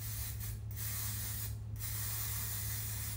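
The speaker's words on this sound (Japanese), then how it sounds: "これスプレーを振れば" Hair spray hisses from an aerosol can in a steady, close, loud burst, with two brief pauses in the spray, in a hotel room in Singapore.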